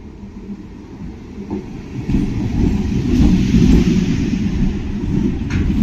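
A train rumbles into a station platform steadily, its low roar swelling louder as it draws near, with faint rail clatter and no voices.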